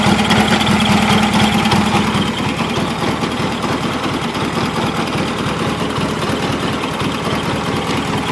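A Gravely 8199 tractor engine idles steadily nearby, giving a continuous, even mechanical chugging with a rapid regular pulse and no voices over it.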